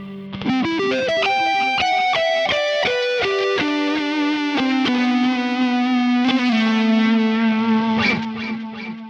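An electric guitar picks a slow arpeggio, each note repeating through a trailing delay that builds into a dense, echoing wash.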